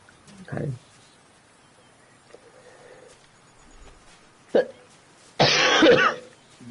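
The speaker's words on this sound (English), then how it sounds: "That cough." A person coughs a few times, one short cough near the start, another brief one later and then a longer, harsher cough and throat clearing toward the end, close to the microphone in a quiet room.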